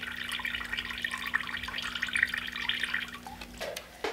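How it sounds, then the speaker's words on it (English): Water drains and drips from a soaked exhaust heat wrap for a Ducati Scrambler motorcycle, a faint, close trickle with scattered drips over a low steady hum. "I'm gonna get the water to drain out of it"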